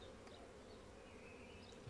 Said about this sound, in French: encore des abeilles, il y en a partout